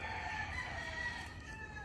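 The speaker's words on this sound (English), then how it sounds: "a ton of roosters, so you hear them in the background" Roosters crow in the background over a steady low hum, their calls distant and layered rather than close.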